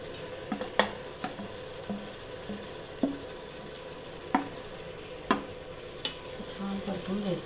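Cauliflower, potato and carrot sauté in a pan for spiced rice, under a steady low sizzle. A spoon scrapes and clicks against the pan at irregular intervals.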